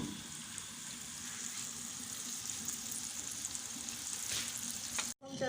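Mutton nihari ingredients fry and brown in a pot, a steady close sizzle with occasional stirring that cuts off abruptly near the end.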